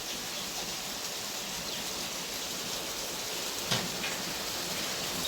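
Monsoon rain falling on flooded crop fields, a steady dense hiss of drops from start to finish with one brief louder knock partway through and no voices.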